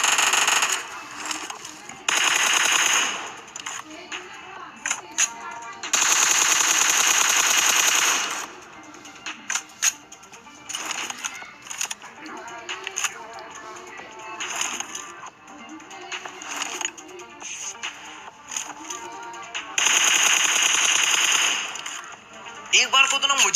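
Automatic gunfire in a shooter video game as enemies are knocked down, long loud sustained bursts of rapid shots with shorter volleys in between, while someone talks throughout.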